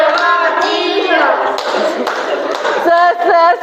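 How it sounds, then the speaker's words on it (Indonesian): Schoolchildren in a classroom chant together with rhythmic group claps, a sharp clap burst landing among the loud, close voices and a steady clapping pattern toward the end. "Coba kelompok Aska, tepuk semangat koboi."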